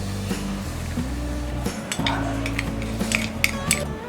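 Cornflour, bread crumbs and salt being mixed into a spinach, paneer and potato tikki mixture in a bowl, with repeated soft clinks and scrapes of a spoon against the dish over a low steady hum, close and busy.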